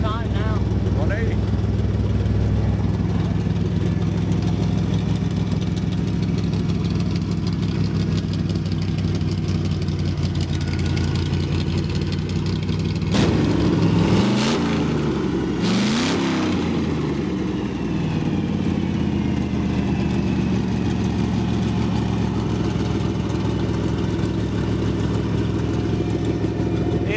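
A Chevy S10 pickup with a V8 swap idles steadily and loudly up close, a deep rumbling drone, then revs sharply a couple of times midway before settling back, with people talking nearby.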